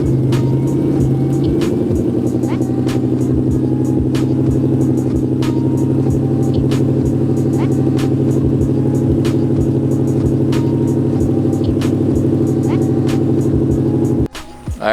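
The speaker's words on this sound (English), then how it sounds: "first we're gonna start the car up though real quick" A truck engine with an N2MB WOT box cranks and catches, then settles into a loud, steady rumbling idle with regular ticking, cutting off abruptly at the end.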